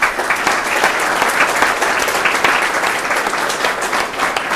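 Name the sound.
audience applause at a town hall meeting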